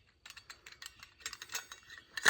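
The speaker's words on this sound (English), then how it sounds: "Screw this knob off the top just like this." A knob is unscrewed from the lid of a French press, giving a close, quick series of small ratcheting clicks and rattles, ending in a louder clack.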